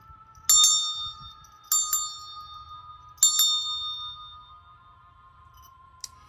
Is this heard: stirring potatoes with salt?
no